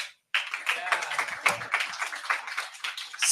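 A small audience at a PHP meetup talk in New York claps after a brief silence, producing a scattered, uneven patter of close hand claps with no talking over it.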